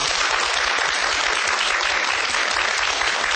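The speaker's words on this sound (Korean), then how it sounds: "다시 한번 큰 박수 부탁드립니다" Loud, dense applause from a lecture audience thanking an astronomy speaker, steady and close throughout with no voices above it.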